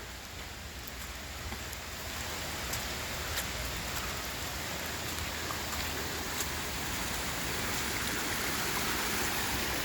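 Steady rain falls outdoors over a yard with grass and trees, a constant even hiss of drops with no breaks, fairly close and alone without voices.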